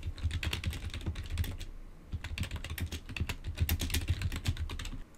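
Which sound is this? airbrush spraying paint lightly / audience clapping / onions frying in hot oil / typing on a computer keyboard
typing on a computer keyboard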